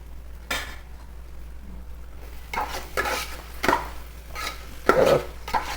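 Onions with salt fry in a pan for an egg onion curry, stirred with a utensil that scrapes the pan in several irregular strokes over a low steady hiss, close and fairly quiet, with no talk.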